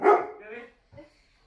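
A Labrador guard dog barks at strangers: one loud, close bark followed by a quieter second bark, with a short gap of silence between them.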